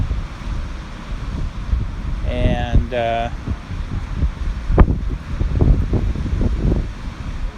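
Strong wind blowing over a beach with waves, picked up by a DJI Mavic Pro drone in flight, a loud continuous rumbling buffet with gusts, plus brief tonal beeps and a few words of speech.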